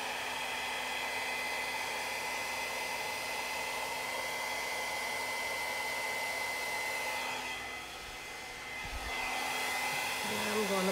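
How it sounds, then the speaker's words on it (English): A hair dryer blows across an acrylic paint pour to spread the paint into blooms, giving a continuous steady whoosh with a brief dip in airflow near the end before it resumes. "I'm gonna keep the dryer back"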